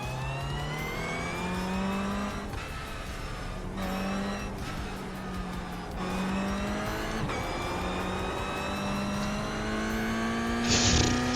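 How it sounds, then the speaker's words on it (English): A GR86 race car on the Tsukuba circuit in the iRacing video game drones steadily on throttle, its engine pitch climbing repeatedly through rising revs with brief dips at each gear change, and a short tire squeal comes near the end. "I feel like I'm coming on the throttle a little too fast on that corner."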